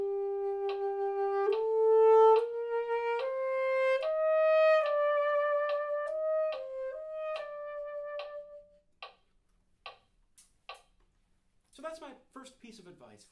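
Solo saxophone playing an etude at a slow tempo of eighth note equals 72, with a metronome clicking steadily behind it. It begins with clear sustained notes stepping upward, then the playing thins into sparse clicks and short sounds.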